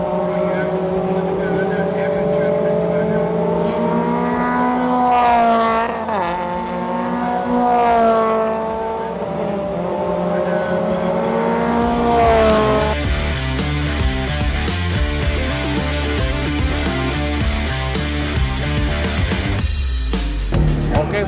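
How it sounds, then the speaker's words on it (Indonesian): Subaru BRZ Super Series race cars on track during qualifying, their engines droning loudly with a rising and falling pitch before the sound becomes a busier, choppier mix. "Tapi pagi ini kita mau lihat dulu BRZ Super Series sekarang lagi pada kualifikasi nih"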